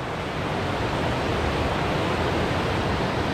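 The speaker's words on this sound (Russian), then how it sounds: "Красивейшая горная река." Mountain river rapids in Austria rush steadily with a dense, unbroken roar of whitewater, loud and close, with no pauses or other sounds.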